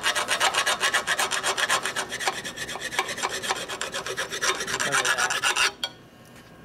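A metallic clutch plate for a Harley Shovelhead pro clutch is scratched with quick, rhythmic rasping strokes, loud and close, that run steadily for nearly six seconds and then stop abruptly.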